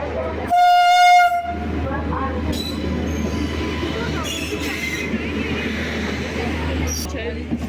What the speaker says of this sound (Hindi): उसके बाद हमारी ट्रेन आई।